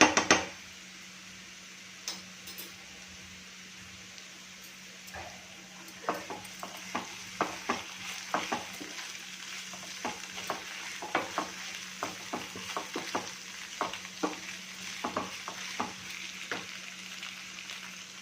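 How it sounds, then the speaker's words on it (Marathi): Onion being sautéed in a pan for mushroom masala, a soft, steady sizzle with a rapid run of light clinks and scrapes as a spoon stirs against the metal, with no talking. "कांदा छान परतून घ्यायचा आहे"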